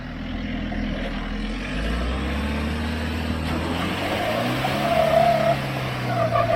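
A 4x4 off-roader's engine labours as the vehicle attempts to drive up big, massive rock steps, a steady low rumble that swells and strains louder toward the end, with no talk.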